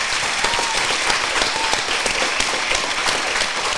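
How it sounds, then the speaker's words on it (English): Applause from a group of people, a continuous dense clatter of many hands clapping close and loud, holding steady for the whole stretch without speech. "And I want to clap it up for you"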